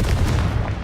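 Confringo blasting curse explosion in Hogwarts Legacy, a short, heavy booming blast with sharp percussive cracks layered over a low rumble.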